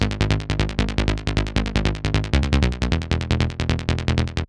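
An analog-style wavetable saw wave bass synth, fed through chorus, plays a fast stream of evenly pulsing buzzy notes that shift pitch partway through, bright and loud, ending abruptly with no talking.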